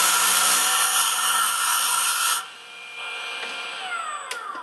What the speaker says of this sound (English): from here, we'll move on to the 220 grit. And again, running at high speed.